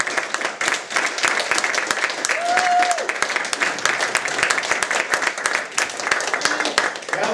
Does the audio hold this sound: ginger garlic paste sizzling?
no